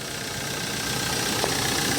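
A Hyundai Porter Super Cargo CRDI diesel engine idles with the hood open, giving a steady, close, mid-pitched rumble with a light knocking texture and no talking over it.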